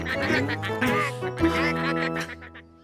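A cartoon duck lets out a quick string of loud, nasal quacks, close and alone, trailing off at the end.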